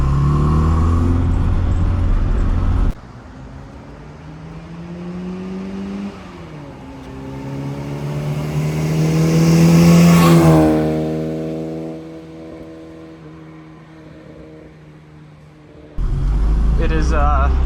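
A 1965 Austin Mini Cooper S engine while driving, revving up through a gear with a rising whine that peaks and then falls back to a steady drone. The car sounds close and loud, with cabin noise before and after.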